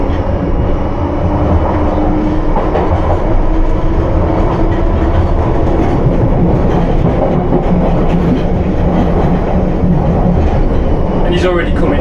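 A London Underground Piccadilly Line train runs at night in a steady, loud rumble of wheels and motors, with a brief rising squeal near the end as it begins braking.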